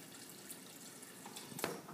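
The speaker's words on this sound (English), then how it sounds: "So I put the water in there." Water poured into a mixing bowl for honey whole wheat sandwich bread dough, a brief quiet splash and trickle ending in a slightly louder splash close by.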